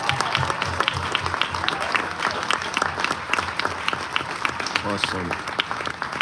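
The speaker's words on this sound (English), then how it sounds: "Let's please get a huge round of applause for our veterans and active military of the United States Army." Crowd on the Royal Caribbean cruise ship Odyssey of the Seas applauds and cheers for U.S. Army veterans and active military during a tribute, dense steady clapping filling the space with a brief spoken exclamation over it.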